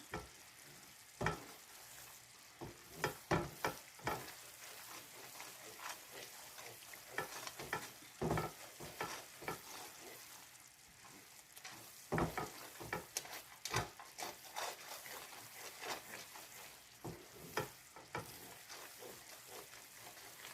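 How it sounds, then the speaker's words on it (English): Sugar half melted in a pan for Nigerian coconut candy, being stirred: a soft continuous sizzle broken by frequent scraping, knocking strokes of a spoon, close and without speech. "the sugar is halfway melted"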